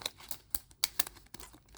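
A stationery subscription package is opened through a small cut slit, giving quiet, close bursts of paper crinkling and tearing in quick irregular rustles.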